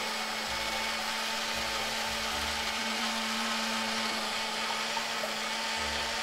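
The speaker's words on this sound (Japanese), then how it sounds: "めちゃくちゃ久しぶりにタイヤ削ってる俺。" A power tool grinds down Mini 4WD tires, giving a steady, continuous high-pitched whirring drone with a constant hum underneath, close and unbroken for the whole stretch, with no talking.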